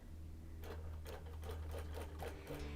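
Domestic sewing machine stitching linen-blend quilt blocks, a steady motor hum with bursts of rapid needle clatter starting and stopping several times, close and alone.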